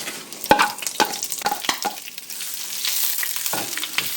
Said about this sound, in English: We're going to saute down some of our spinach right quick.